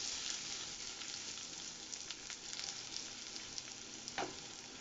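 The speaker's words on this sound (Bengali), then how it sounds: "তো রসুনটা ভাজা হয়ে যাক।" Chopped garlic fries in hot tempering oil for a Bengali beetroot dish, making a dense, even sizzle with occasional soft stirring sounds. The sound is close but fairly quiet, and no one speaks.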